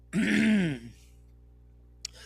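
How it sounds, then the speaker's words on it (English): A single loud, rasping throat clearing, close and voiced with a grunting tone, then near silence and a faint tick. "she had to clear her throat for that one"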